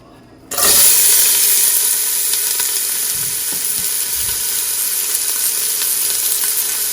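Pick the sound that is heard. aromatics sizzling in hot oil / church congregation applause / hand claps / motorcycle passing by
aromatics sizzling in hot oil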